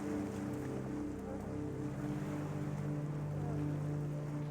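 Ocean waves and wind roar steadily at sea around a boat, with a continuous dense rush of water and gusty wind buffeting the microphone, loud and unbroken throughout.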